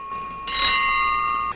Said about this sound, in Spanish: Tenemos aquí una campana Silvian de...